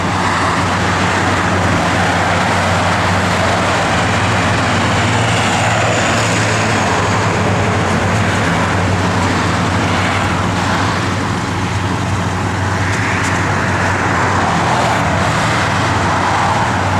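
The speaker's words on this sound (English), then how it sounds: "Lots of traffic." Road traffic passing, a continuous loud roar of engines and tire noise with broad rumble rising and falling as vehicles go by, no voices.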